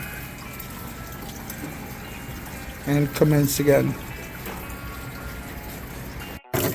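Water is poured into a guppy fish tank in a short burst of splashing and gurgling partway through, with someone speaking briefly before and after over a low steady hum.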